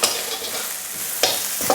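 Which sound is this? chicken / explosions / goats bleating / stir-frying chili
stir-frying chili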